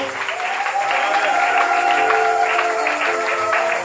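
A congregation at a French-language church service applauds and cheers, a dense, sustained wash of clapping with some voices rising within it, steady and loud throughout.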